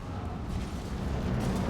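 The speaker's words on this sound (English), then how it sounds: "We just hear muffled explosions." Muffled explosions rumble through the walls of a jail cell in Mass Effect 2, a continuous low, dull booming roar with no distinct sharp blasts.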